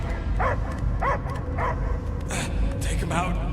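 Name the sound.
dog barking in video game Guardians of the Galaxy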